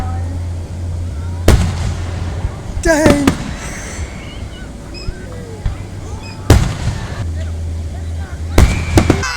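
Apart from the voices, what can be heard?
fireworks show on the 4th of July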